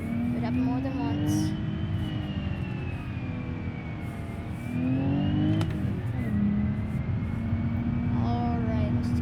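Simulated car engines from the video game BeamNG.Drive hum and rev steadily, with the pitch rising and falling through gear changes, and a voice speaks briefly over the engine sound.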